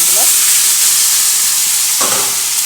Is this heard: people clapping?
no